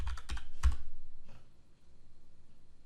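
A few quick keystrokes tap on a computer keyboard as a login password is typed, a short burst of sharp clicks followed by quiet with a faint steady hum.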